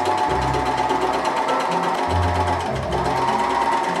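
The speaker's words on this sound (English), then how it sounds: "I'm overlocking all of the raw edges, which is especially important for satin and brocade" An overlocker serging the raw edges of satin and brocade dress fabric, a steady mechanical whir with sewing bursts that pause and restart, close and fairly loud throughout.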